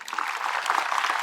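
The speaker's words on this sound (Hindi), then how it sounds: "ढंग से ताली बजा दो यार" Audience at a stage event in Delhi clapping steadily, a dense continuous patter of many hands at moderate distance with no voices over it.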